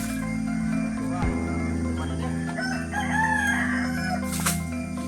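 A rooster crows amid a busy farmyard din, with chickens and other animals audible over steady background noise.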